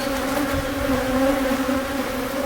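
Honeybees swarm loudly around an open hive while frames are lifted for inspection, a dense, close, continuous drone with slight waver and no voices.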